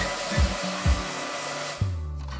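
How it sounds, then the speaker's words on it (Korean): A hair dryer blows with a constant airy whoosh, its pitch dipping briefly a few times as the airflow shifts, before it cuts off near the end. "헤어드라이기로 털을 말려줄게요."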